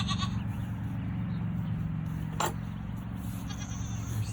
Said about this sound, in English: There's the young goats.